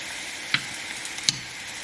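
French toast frying in a pan, a soft continuous sizzle at low volume with two brief sharper pops or crackles rising out of it.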